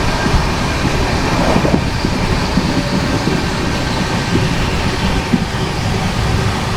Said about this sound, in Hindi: बगल से क्रॉस हो रही है कालका साईनगर सिटी सुपरफास्ट।